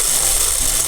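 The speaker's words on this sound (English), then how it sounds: "it's time to trim the edges. And to do that, you need a whippersnipper." A petrol string trimmer (whippersnipper) running steadily after a pull-cord start, its continuous high-pitched motor whine loud and close for the whole moment, with no talking.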